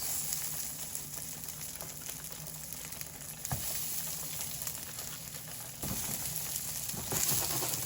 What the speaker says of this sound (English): I'm going to grease the pan with a vegetable oil. I'm going to add my crab cakes.